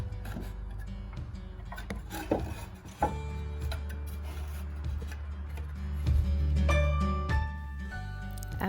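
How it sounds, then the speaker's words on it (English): Wooden slats for a DIY outdoor bench being sanded by hand, a quiet uneven rubbing and rasping with scattered knocks and a slightly louder stretch of scraping toward the end. "I went ahead and just started sanding everything down and staining before I got the slats on"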